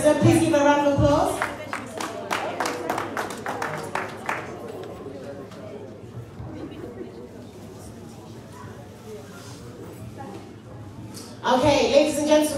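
An audience applauds a guest at a political town hall meeting and fundraiser in Manchester, UK, with scattered claps amid room chatter and talk over them, fading before a voice returns.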